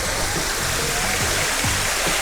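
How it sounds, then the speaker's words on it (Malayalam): Water runs along a stone channel and drops into a fountain in Split, Croatia. A steady, dense rush and splash sounds close and constant, with no voices. "ഇവിടെ ഈ ചാലിലൂടെ വെള്ളം ഒഴുകി വന്നിട്ടാണ് ഇതിലേക്ക് ചാടുന്നത്"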